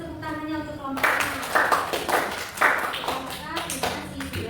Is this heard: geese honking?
no